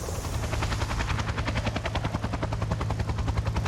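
A Sky Crane firefighting helicopter working a bushfire in Australia thunders close overhead, its rotor beating in a fast, steady, loud chop with a heavy low drone underneath.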